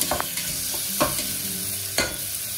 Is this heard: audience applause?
no